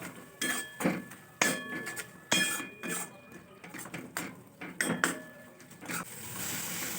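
A spice paste with coriander powder, chilli powder and salt being stirred and fried in a pan for chilli chops, metal spoon scraping and clinking in an irregular, close rhythm with faint voice in the background.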